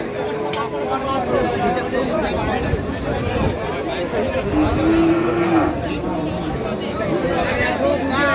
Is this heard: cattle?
yes